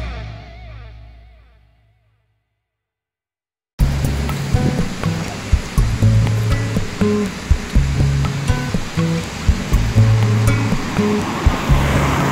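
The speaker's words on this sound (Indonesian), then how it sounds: "Ada air terjun." A roadside waterfall in Malaysia. After a fading opening and a brief silence, a loud, steady rush of falling water fills the rest, close and continuous with no voices.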